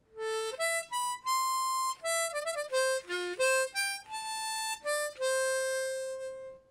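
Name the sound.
harmonica playing riff bass line flourish, E D C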